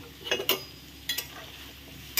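Ground turmeric, cumin, coriander and chilli powder fry in a pan while a utensil stirs them, producing a few short scraping clatters over a soft, steady sizzle.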